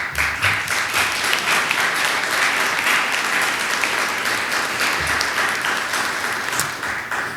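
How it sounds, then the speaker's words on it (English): Audience at a university address claps, producing a loud, dense and continuous wash of applause from a large crowd that stays even from start to finish. "Thank you for clapping."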